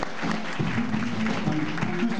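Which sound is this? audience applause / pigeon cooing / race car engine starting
audience applause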